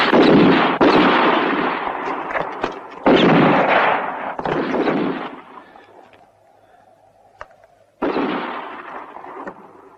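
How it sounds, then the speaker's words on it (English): Gunfire rings out in a western film shootout, several sharp loud shots and bursts in quick succession, a pause with faint background, then another sudden report near the end. "so keep on shooting all the time."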